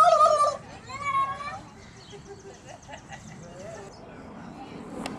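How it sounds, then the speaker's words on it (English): Several turkeys gobble in a short burst near the start, with bird calls and a faint voice-like murmur continuing at lower level afterward, amid outdoor ambience. "And a bunch of turkeys here."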